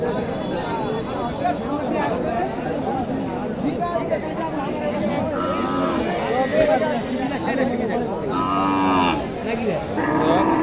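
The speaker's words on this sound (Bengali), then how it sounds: "চমৎকার একটা গাভী।" Local cows with calves low out repeatedly at the Dhamoir cattle market in Naogaon, with loud, drawn-out moos rising over constant crowd chatter and nearby talk.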